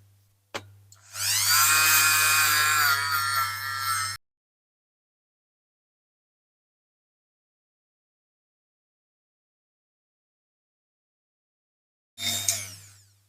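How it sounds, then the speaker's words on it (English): Power tool polishing a diecast Dinky Toys Rover 75, a loud steady whine with a low hum running for about three seconds, then silence before it starts again briefly near the end. "So here we go with the polishing."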